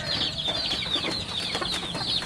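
Many chickens clucking and chattering together on a chicken farm threatened by flooding, a dense overlapping flock sound, moderately loud and continuous.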